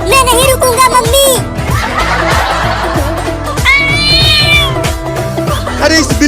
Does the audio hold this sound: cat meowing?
yes